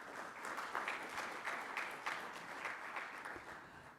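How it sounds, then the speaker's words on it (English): An audience at a conference in Chicago claps continuously, a moderately loud, even wash of many hands with no voices over it. "Let's give all of them a round of applause."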